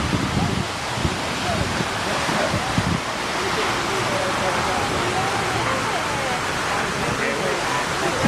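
Waterfall roaring directly overhead, a dense continuous wash of falling water with heavy wind buffeting on the microphone, loud and close, with voices faintly mixed in.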